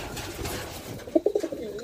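Jalali pigeons, a wild dove-like breed kept for sale, give a short run of soft cooing notes, about four quick coos in the second half, close and clear over a faint background murmur.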